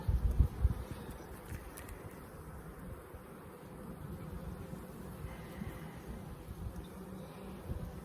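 Honey bees hum in an opened beehive during a farm hive inspection, a soft, steady low drone close by, with brief rustling and handling noise at the start.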